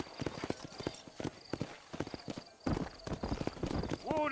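Horse hooves clip-clop steadily in Red Dead Redemption as a rider sets off on horseback, the hoofbeats near and rhythmic under a man's speech, with a brief whinny near the end.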